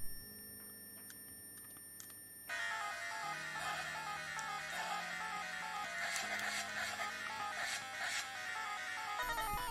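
Powkiddy Q90 handheld playing a Game Boy game with a sound bug: faint electronic beeps give way to a buzzy, glitchy stream of chiptune tones and shifting notes, heard alone.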